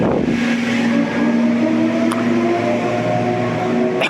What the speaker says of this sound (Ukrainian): шум машин. Це історичний центр міста.